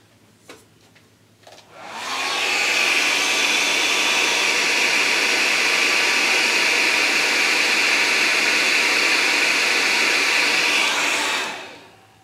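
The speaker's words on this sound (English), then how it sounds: "I'm going to put a hairdryer on it again just to get a sense of how it spins." After a few clicks, a hair dryer switches on and blows steadily at close range on a horizontal-axis wind turbine rotor with a loud even roar, then cuts off near the end.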